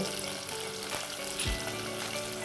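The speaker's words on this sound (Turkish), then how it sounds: "Portakalın suyunu bu şekilde ekliyorum içerisine." Orange juice poured into a pot of quince cooking in olive oil gives a constant bubbling, sizzling wash with a brief splash partway through.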